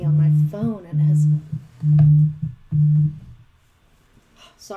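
A phone's call tone breaks into a livestream about finishing a Regency bonnet: four loud, steady beeps in an even on-off rhythm, each lasting about half a second, then the line goes quiet.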